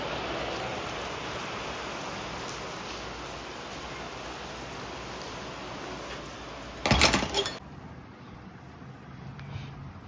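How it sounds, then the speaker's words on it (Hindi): Heavy rain pours down steadily as a dense, even hiss, with a brief louder burst of clattering splashes near the end. "कितनी तेज़ की बारिश हो रही है"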